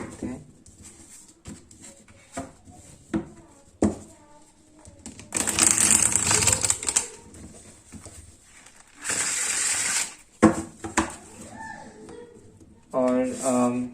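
A deck of tarot cards is shuffled by hand in a few bursts of rapid, close riffling and flapping. A voice talks softly between the shuffles.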